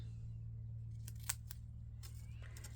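Scissors snipping through a flower-shaped paper craft piece during planner prep, a few faint sharp snips spaced apart over a steady low hum, close by and with no talk.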